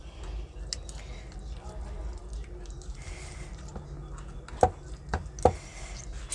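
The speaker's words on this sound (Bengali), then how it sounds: "এইভাবে পুরো আমি মেখে নিচ্ছি। এর মধ্যে আমি টমেটোটাকেও, এখনো গরম আছে," Roasted eggplant mashed by hand with tomato, a few soft wet squelching presses standing out near the end over a steady low background, with a voice speaking at times.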